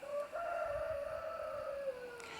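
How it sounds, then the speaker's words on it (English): A rooster crows once, a single drawn-out call rising then falling, moderately close against a quiet background with no voices. "There goes Bobby Martin, our rooster."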